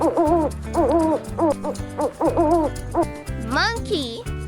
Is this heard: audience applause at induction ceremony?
no